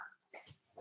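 A pet dog gives a faint, brief whimper with a few soft, high whining yelps, heard indoors at close range and with no talking.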